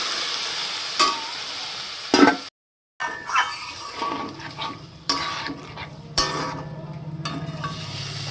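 Frying potatoes sizzle in a pan, then a short silence is followed by a burst of hissing as water is added, settling into a steady bubbling sizzle with occasional clinks of a spoon against the pan.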